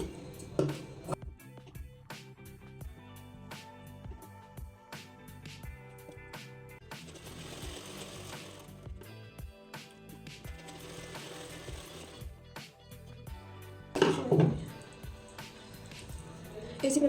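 Sewing machine stitching blouse sleeve fabric pieces together, heard as repeated short rattling bursts of needle clatter at close range, broken by pauses and handling noise, with a louder burst near the end.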